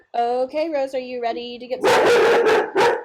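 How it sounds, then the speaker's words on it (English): A dog barks loudly several times in the background, a run of sharp, close barks after someone speaks over it. "That's always my dog, so if you hear him screaming in the background"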